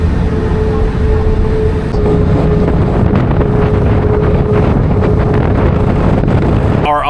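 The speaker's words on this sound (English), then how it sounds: "It's another ferry. That one is scooting right along." A ferry speeding across Pamlico Sound on the Outer Banks near Hatteras, North Carolina, heard as a steady engine drone with a faint tonal hum under loud, constant wind buffeting the microphone, ending in a brief rustle.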